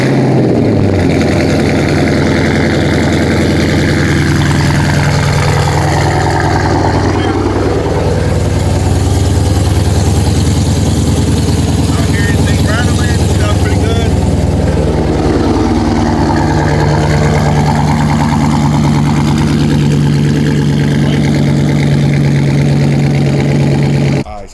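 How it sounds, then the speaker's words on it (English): A Dodge Scat Pack or Hellcat V8 with active exhaust runs at a steady, deep idle, loud and close, with revs swelling and easing a couple of times throughout. "Anybody want to start the car now?"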